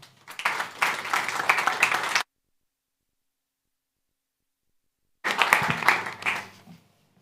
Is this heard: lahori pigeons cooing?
no